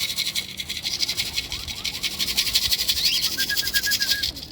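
A racing pigeon arrives at the loft landing board during club training, giving soft coos and faint wing flutters under a constant shrill chorus of insects.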